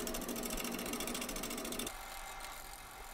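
A wood lathe spins an out-of-balance pedestal bowl blank with a fast, rhythmic mechanical whirring pulse, then drops abruptly to a quieter, softer running sound for the final stretch.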